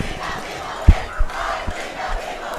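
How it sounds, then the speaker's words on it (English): South stands crowd at a Grandview at Park Hill South high school football game, a broad sustained roar of many distant voices with a few low thumps rising briefly above the din. "you got the South stands cheering"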